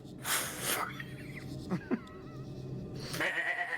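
Goats in a video game give a few wavering bleats at close range, then a later drawn-out cry, against a low ambient background with no talking.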